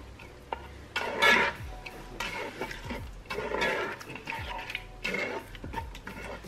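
Spoon stirring lamb pilau inside a Ninja Foodi pot, scraping and clinking against the metal in uneven strokes, close and moderately quiet, with no talking.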